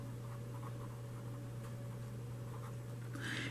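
Marker or chalk scratches on a board as someone writes while explaining a pre-calculus function graph, soft intermittent scraping strokes over a steady low electrical hum, quiet and close.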